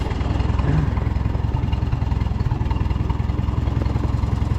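A J.I. Case 730 tractor engine runs steadily at idle nearby, a low rhythmic chugging with even pulses throughout and no talk.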